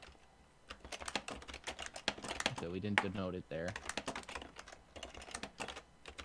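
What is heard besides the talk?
typing on a computer keyboard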